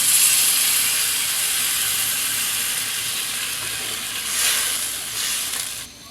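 Water poured into crab masala frying in oil for a Sundarbans crab tel jhal, a loud, continuous hiss of sizzling close by, swelling briefly near the end before dropping off.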